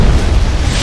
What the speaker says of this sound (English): that's a big explosion if you can see it from space like that